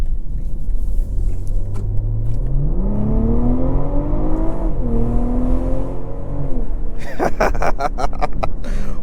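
A 2024 BMW M340i Special Edition with a B58 engine pulls away from a light and accelerates hard, its loud rising engine note climbing through the gears with one shift, then giving way to wind and road rush at speed.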